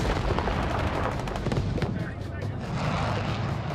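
Strafing fire from an aircraft's 20mm gun, supporting a Special Forces team under insurgent attack, comes as a dense, continuous roar of rapid booming shots. It sounds loud and sustained, with a slight dip midway.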